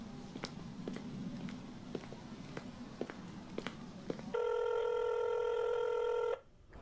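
A telephone call connecting: a steady electronic ringback tone sounds loud and continuous for about two seconds after a stretch of quiet room noise with faint ticks, then cuts off abruptly.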